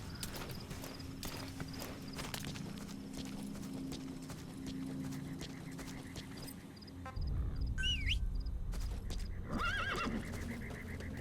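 D-Horse whinnies and trots on clip-clopping hooves in Metal Gear Solid V: The Phantom Pain, a near neigh rising late over a steady run of hoofbeats and outdoor game ambience, with no talking.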